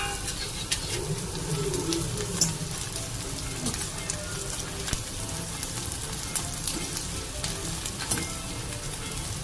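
Edible gum (dink) fries and puffs in very hot ghee in a kadhai, a steady dense sizzle with scattered little crackles and pops, and faint bird cooing somewhere in the background.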